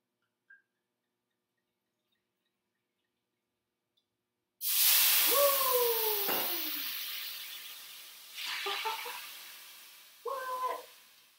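Wine poured into a hot scallop pan hits with a sudden loud sizzle that slowly fades, followed by two shorter flare-ups of hissing, with faint squeaky scraping through it.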